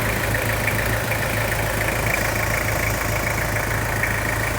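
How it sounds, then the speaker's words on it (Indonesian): A 2004 Toyota Kijang Kapsul LGX with a 2.4 diesel engine idles steadily close up, a continuous rough, clattering drone at an even pace with no voices. "Mesinnya juga kering, tidak ada rebusan oli, suaranya kental, garing."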